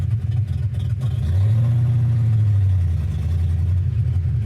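A 1972 Chevy Nova engine pulls hard with a deep, loud rumble that climbs in pitch and holds as it accelerates, heard up close from inside the car with no talk.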